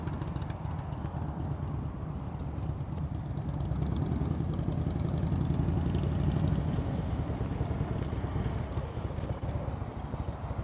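Motorcycle engine running at low throttle during slow-speed riding practice in Florida, a steady low rumble continuing throughout, swelling slightly in the middle, with no speech.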